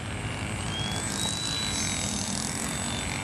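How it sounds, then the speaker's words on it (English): A GWS Tiger Moth radio-controlled model airplane flies over an open field at UP. Its thin, steady electric motor whine drifts faintly, rising slightly in pitch, over wind noise. "this is a newly constructed plane also made by Roel"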